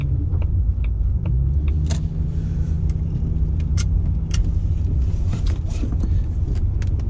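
A car's interior fills with a steady low engine and road rumble during a test drive, continuous and loud, with small clicks and rattles scattered over it.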